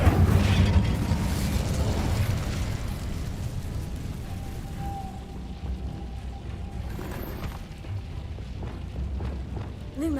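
The Incendio fire spell cast in Hogwarts Legacy gives a loud, deep burst with a rumbling whoosh that fades slowly into quieter mechanical noise over several seconds.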